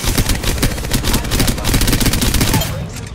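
Loud, sustained automatic gunfire in a battle royale video game, rapid dense bursts rattling for nearly three seconds before easing off.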